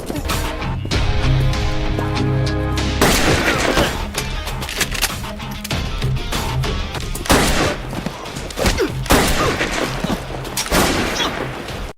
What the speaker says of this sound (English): Hearing the continuous gunshots, Baron realized his men were no match for Ma